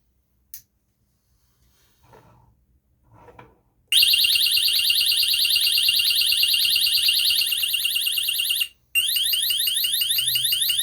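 A new home alarm system goes off with a loud, continuous high-pitched electronic warbling siren, preceded by a few faint clicks and handling noises, briefly cutting out before resuming.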